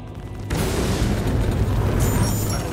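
Missiles exploding during a space combat fight in Star Citizen: a sudden loud blast kicks in after a brief quiet moment, then a dense, continuous rumbling roar with crackling debris that holds steady to the end.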